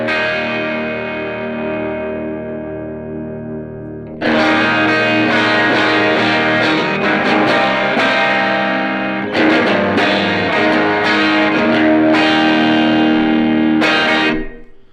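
An electric guitar rings out a sustained chord, then plays loud, heavily distorted riffs through an effects pedal, thick and saturated, with no talking.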